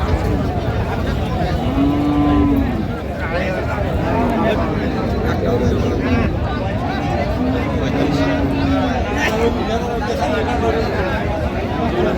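At a crowded cattle market in Cox's Bazar, beef cattle and fattened cows give several drawn-out low moos over constant crowd chatter and talking nearby.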